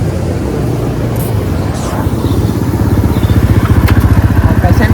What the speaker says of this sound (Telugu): మస్రఫ్ వాళ్ళ బైక్తో అక్కడ షూట్ చేస్తున్నాడు